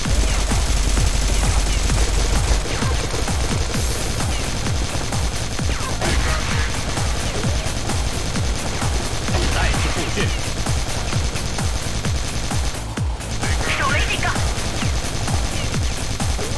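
Dense automatic gunfire fills a CrossFire shadow-mode match, with rapid overlapping bursts rattling on continuously and loudly from start to finish, a few voices calling out underneath the barrage.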